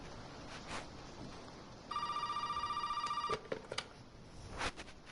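A telephone rings in the horror game Resident Evil 7: one sustained electronic trill lasting about a second and a half, rising out of quiet ambience, with a few knocks and clicks after it.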